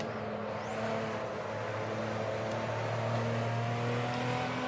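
Toyota MKIV Supra engine in the Assetto Corsa racing game, a steady sustained drone with rising revs and a whine climbing at the start, held loud and continuous throughout with no talk.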